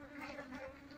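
A wild bee colony with no queen buzzing at close range, a soft continuous insect drone with a faint higher whine, brief and quiet, ending in a short bump.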